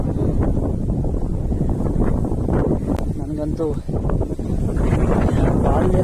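Strong wind buffets the microphone on a rocky hilltop at Kaiwara, a loud continuous roaring rush with gusty swells, while someone speaks briefly over it.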